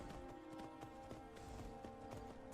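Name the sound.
horse hooves clip-clopping while riding, Skyrim video game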